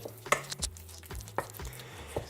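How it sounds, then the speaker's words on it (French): Beaten eggs being vigorously mixed into warm choux pastry dough in a bowl, heard as several sharp, irregular knocks and scrapes of a utensil against the bowl, close and moderately loud, with no talking. "on incorpore la moitié des œufs et on va mélanger énergiquement pour les incorporer"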